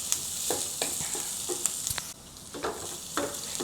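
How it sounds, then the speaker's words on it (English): Onions and lemongrass sauté in a pan for curry puff filling, giving a steady close hiss and sizzle broken by occasional stirring scrapes and taps, with no voices. "Continue to saute for another 2 to 3 minutes until the onions start to turn soft and translucent."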